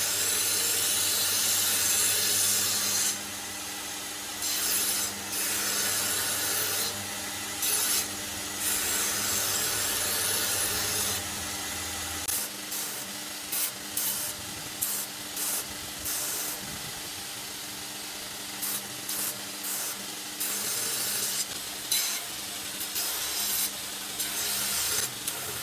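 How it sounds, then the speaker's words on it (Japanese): A belt grinder running a 60-grit belt grinds the flat and edge bevels into a 10Cr Mo steel knife blade, a steady loud abrasive hiss under a constant motor hum, broken by brief repeated pauses as the blade lifts off. "60番のベルトでヒラと切れ刃を作っていきます。"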